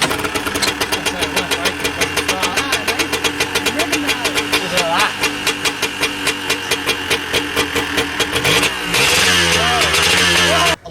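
A 1979 Yamaha motorcycle fires on the first kick, then its engine runs with a fast, even mechanical beat close by, a brief rev near the end and voices talking over it.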